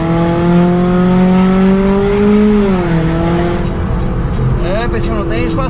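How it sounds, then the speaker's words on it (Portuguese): A Toyota Corolla GLI 2.0 with an aftermarket exhaust diffuser revs, its sustained engine note rising and then falling back at close range while someone talks over it. "E vamos lá, mais uma aceleradinha"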